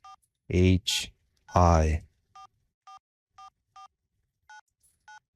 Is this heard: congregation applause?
no